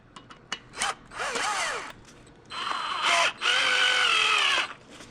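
A power drill drives 2-inch screws into a wooden deck chair, giving short whirring bursts and two longer whining runs with rising and falling pitch as the screws bite, with no one talking.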